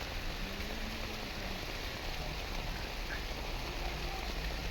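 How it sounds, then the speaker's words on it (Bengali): Steady rain falls throughout, a constant even hiss of drops on surfaces with no voices, moderately quiet and continuous from start to end. "বৃষ্টি কতক্ষণ আরও থাকবে আল্লাহ তাআলাই ভালো জানে"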